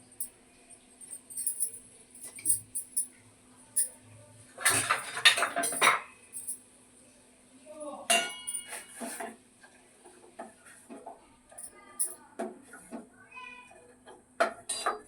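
A spoon stirs ginger tea in a cup, clinking and scraping in repeated bursts with short pauses between them, close and fairly quiet, with a louder rattle near the middle.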